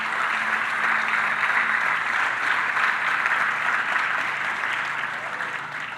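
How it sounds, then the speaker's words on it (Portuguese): A church congregation applauds God during a Portuguese-language sermon, with loud, dense, sustained clapping from the crowd that stays steady and then eases slightly at the end. "Você pode aplaudir a Deus?"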